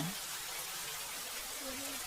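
Heavy stormy rain in a Hindi cartoon hisses as a dense, continuous wash of noise, with brief voice-like tones faintly underneath.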